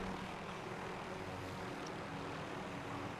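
A helicopter in the video game Call of Duty Warzone drones with a steady, dense engine roar and rotor rumble that fills the whole stretch at an even level, with no talk over it.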